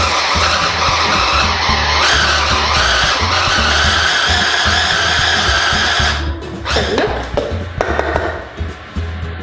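A food blender pulsing and blitzing bread into crumbs makes a loud, steady whirring roar for about six seconds, then cuts off into a few uneven rattling spurts.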